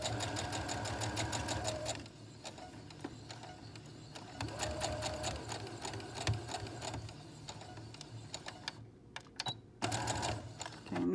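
A sewing machine stitches fabric for a face mask, its needle chattering loudly and evenly, briefly slowing and pausing as the seam is backstitched to lock it, then running again.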